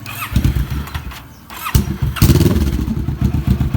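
Kawasaki Vulcan 650S motorcycle engine cranks and fires, settling into a loud, close, lumpy idle; the starter whirs, there is a brief dip, then the engine catches again and runs steadily.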